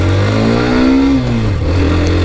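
A Hero Xtreme 125R motorcycle engine idles, rises briefly in a short rev, then drops back as the bike clunks into first gear, a steady close-up mid-pitched hum with no talking.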